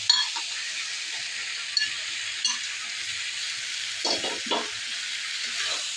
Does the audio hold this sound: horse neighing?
no